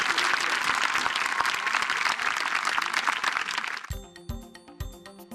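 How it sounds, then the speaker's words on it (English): Sustained, dense applause for a high school cross country team fills the first four seconds, then breaks off abruptly into sparse tones and a few distinct thumps. "Let's give a round of applause."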